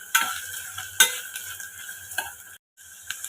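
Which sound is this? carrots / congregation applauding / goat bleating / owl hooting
carrots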